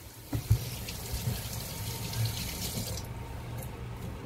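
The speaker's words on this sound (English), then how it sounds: "I'm going to wash my hands and show you how I do that." Steady running tap water over hands at a sink, a constant close wash with a couple of brief splashy bumps near the start, no talking.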